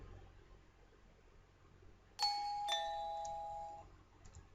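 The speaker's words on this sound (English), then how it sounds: "I rang the doorbell, and after a while, the door slowly opened." A two-tone electronic doorbell chimes once in the game Da Capo 2, bright and clear, ringing out and fading in an otherwise quiet space.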